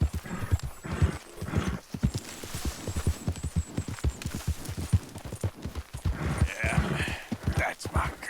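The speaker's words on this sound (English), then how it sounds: "Tem um lugar aqui no acampamento que o cavalo passa e fica reinando" Horse hooves clopping in a steady rhythmic gait at a camp in the Red Dead Redemption video game, with a whinny breaking through and someone talking over it.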